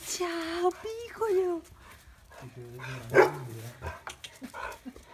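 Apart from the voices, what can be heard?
puppy dog whimpering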